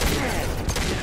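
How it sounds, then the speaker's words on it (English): Pistol fire in Mass Effect 2 during a fight with Geth, a quick burst of loud, overlapping gunshots crowded into about a second. "Let's see how the pistol actually does against these guys."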